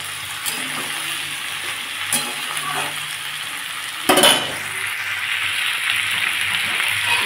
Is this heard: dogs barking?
no